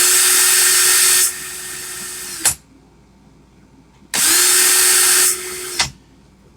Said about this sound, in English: Put my drill in reverse to loosen it.